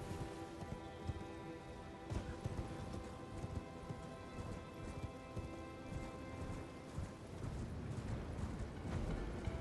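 Horse hooves clip-clop steadily across the ground in Elden Ring, mixed with a rain-like patter and a busy low game ambience, with no voices over it.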